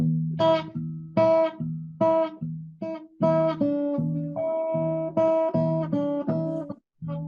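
Plucked guitar notes in a steady pattern, low bass tones alternating with brighter chords, distorted and close, played solo without talking.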